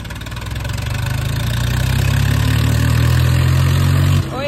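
A Swaraj 855 tractor idles close by in a village religious procession, its diesel engine knocking in a loud, steady low throb that fades abruptly near the end.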